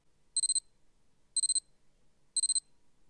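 A wristwatch in alarm mode gives a chirping beep. There are three short bursts, each a rapid cluster of about four high electronic chirps, evenly spaced about a second apart, close and clear against near silence.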